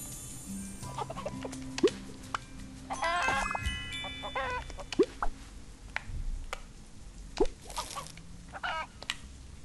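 Chickens cluck and squawk in the farming video game Big Farm Story, with several short clucks and higher calls scattered over a low game soundscape, fairly close and clear, with no talk.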